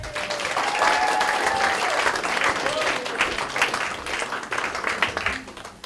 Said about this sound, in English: So let's all give Linda a big round of applause.